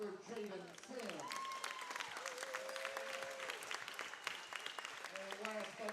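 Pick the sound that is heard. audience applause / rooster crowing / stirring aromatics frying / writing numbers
audience applause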